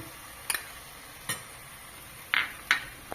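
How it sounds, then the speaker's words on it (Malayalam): Vegetable pulao with chopped green chillies stirred in a pan, a few separate scraping and clinking strokes of a spoon against the pan over a faint steady hiss, close and fairly quiet. "ഇതെല്ലാം കൂടി ഒന്ന് നന്നായിട്ട് ഇളക്കുക."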